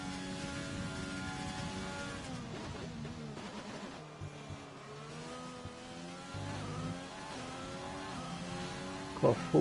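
Race car engines from a full 20-car grid in an online sim racing league event at Italy rev and drone continuously with shifting harmonic tones throughout, loud and steady, with a brief louder burst at the very end.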